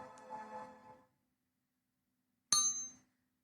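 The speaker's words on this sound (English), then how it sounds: "So I'll just ring this bell" Two rings of a meditation bell: a softer clang fading out after about a second, then after a silent pause a sharper, brighter strike that rings and decays, with no voices.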